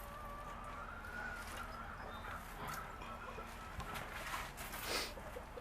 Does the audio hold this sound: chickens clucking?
yes